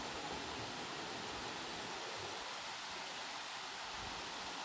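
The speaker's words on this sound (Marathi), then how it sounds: "धबधबा आहे" Nhavankond waterfall near Devgad produces a steady, faint broadband rush of falling water that stays even throughout, with no voices.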